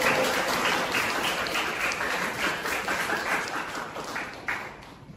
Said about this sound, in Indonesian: kita aplaus